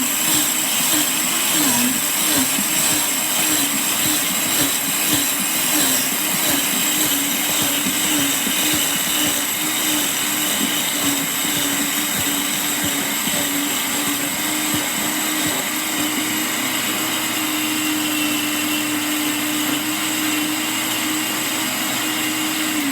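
Electric grain mill grinding sprouted wheat berries into fresh flour, a loud, steady high-pitched motor whine with a gritty grinding roar that holds without a break, no voices.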